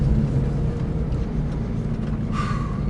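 A Porsche 911 GT3 RS on a racetrack gives a steady engine drone heard from inside, with a brief whine rising near the end.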